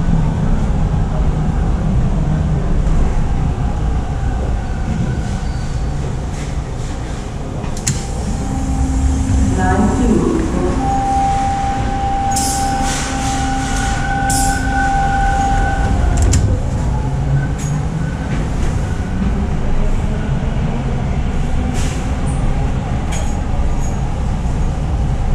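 A Toronto TTC subway train rolls into Main Street Station on Line 2, with a steady loud rumble, rising and falling pitched whines from the motors and brakes, and a few sharp squeals near the middle.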